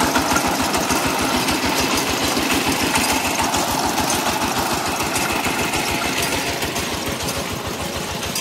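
A drilling rig engine on a farm runs smoothly, a steady close idling chug with an even rapid rhythm that holds at a constant level throughout, no voices over it.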